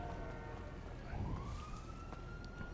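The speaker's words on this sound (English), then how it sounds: "That's a police car." A police car siren in the video game GTA 5 wails as a rising and falling tone, heard at moderate distance over a steady bed of engine and traffic noise.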